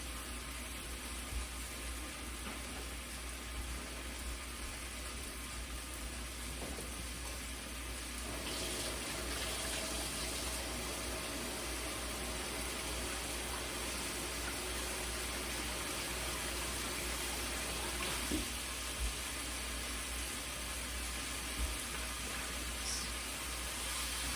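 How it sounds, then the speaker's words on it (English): Running tap water flows steadily as hands are washed in a kitchen sink, a faint, even rush with a slight change partway through, no voices. "Wash my hands."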